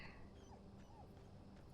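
A dog whimpers softly in the game Oxenfree II, a few brief, faint whines set against a steady low background hum, with no talking.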